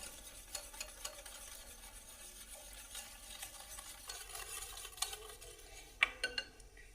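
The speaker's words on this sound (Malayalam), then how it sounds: "അതിലേക്ക് മാങ്ങയുടെ പൾപ്പ് ചേർക്കാം. ഇതെല്ലാം കൂടെ ഒന്ന് മിക്സ് ചെയ്യാം." A coconut milk and mango pulp batter is mixed for a no-oven mango cupcake-style cake, giving soft, quiet scraping and stirring with small utensil clinks against a bowl and a sharper knock near the end.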